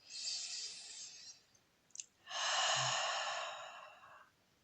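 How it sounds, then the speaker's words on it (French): Slow, deep breath drawn in through the nose during a guided relaxation, a long soft airy inhale followed by a brief pause and a second fuller rush of breath, close and quiet with no talking. "Dernière fois, inspirez par le nez."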